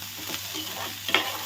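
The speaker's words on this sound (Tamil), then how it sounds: "கருவேப்பிலையும் இந்த எண்ணெயிலே நல்லா நம்ம வதக்கிக்கலாம்" Onions and curry leaves sauté in hot oil, giving a brief, steady sizzle with a quick scrape of stirring near the end, close and clear.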